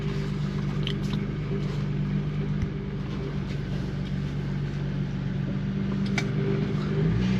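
A Toyota Crown MS55 car being driven, with a steady low engine drone and road rumble that hold evenly and fairly loud throughout, without any voices.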